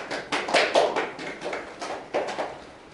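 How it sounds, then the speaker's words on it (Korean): Audience applause greets a speaker introduced at a Canon Korea product session, with a short run of crisp claps rising and fading over a few seconds. "박수 부탁드리겠습니다."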